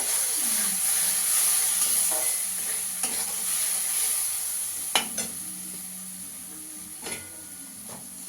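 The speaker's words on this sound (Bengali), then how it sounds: "আর একটু ভালো করে কষিয়ে নেব।" Masala paste for a cauliflower-potato Bhola fish curry sizzles steadily in a hot pan, with occasional sharp scraping knocks of a spatula stirring it, close and continuous with no talk.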